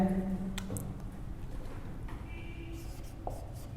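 Pen or marker writing figures beneath a physics diagram during a basic 11th-grade physics lesson on average speed, a soft scratchy stroke sound running steadily over a low room hum, with a brief bit of speech at the start.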